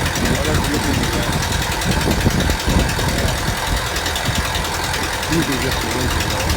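A tractor engine runs steadily at close range during winter cattle hay feeding, a constant rumbling drone with faint knocking that holds throughout with no pause.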